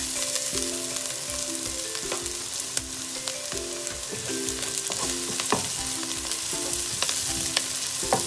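Chopped ginger sizzles steadily in hot oil in a pan as the base for a mussel soup, a continuous close frying hiss with soft tonal sounds in the background and no talking.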